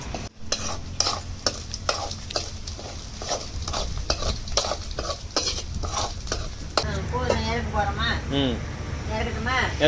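Ingredients for kuzhi paniyaram are stirred and sautéed in a pan, a spoon scraping and clinking in a steady rhythm over a constant sizzle of frying, with people talking nearby and a bird chirping near the end.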